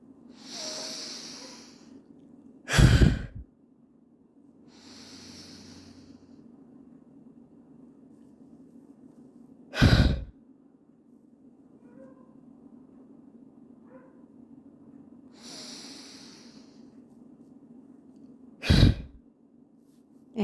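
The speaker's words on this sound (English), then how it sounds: "And in, and then we push out the breath" Slow breaths drawn in and pushed out during a relaxation breathing exercise, with three sharp, loud exhalation bursts spaced several seconds apart over softer airy breathing and a low steady hum.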